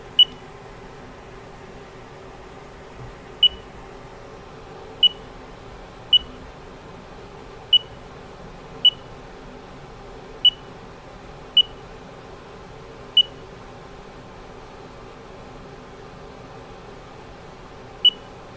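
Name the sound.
CNC machine probe beeping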